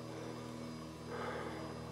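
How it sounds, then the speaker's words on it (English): A distant airplane drones steadily over a remote forested wilderness of boulders, a low continuous hum that swells slightly partway through with no voices. "you can still hear the airplanes."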